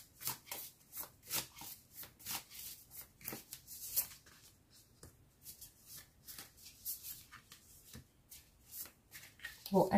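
Tarot cards are shuffled up close in a quiet room, giving a string of soft, quick riffles and slaps in irregular bursts, fairly faint and alone.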